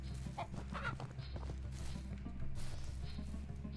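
Chickens clucking steadily in the ranching video game Ranch Simulator, several birds close by over a low constant hum, with bursts of clucks throughout and no talk.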